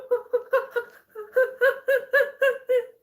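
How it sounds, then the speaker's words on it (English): Seagulls in Istanbul call in a rapid series of laugh-like cackling notes, about a dozen clipped yelps in quick rhythm, fairly close and clear against quiet surroundings. "That's how a seagull sounds like"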